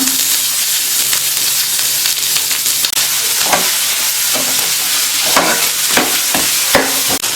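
Chopped onion fries with cinnamon, cloves and fennel in a pot for mutton saaru, giving a loud continuous sizzle broken by repeated scrapes of a stirring spoon, with no one talking.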